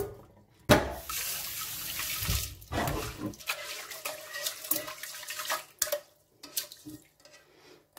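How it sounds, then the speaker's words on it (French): Rice for a Mahoran rice soup is rinsed under a running tap, with bursts of splashing water and swishing as the grains are washed, broken by short pauses and a few clinks of the bowl. "Pour commencer, on va le laver. On va le rincer 2 ou 3 fois."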